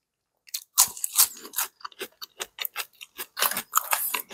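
Crisp crunching from a few bites and chewing of fries, a quick series of sharp crackly bursts close to the ear with no talking.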